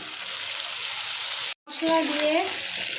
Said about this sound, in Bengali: এবার মশলাটা দিয়ে কষে নেব। মশলার পেস্টটা দিয়ে